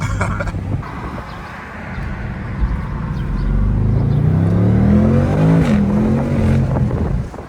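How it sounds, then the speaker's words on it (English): BMW M550i accelerating hard, its engine note rising loud and close with audible gear shifts as revs climb and drop, running alone without talk. "And that's how that transmission is supposed to shift."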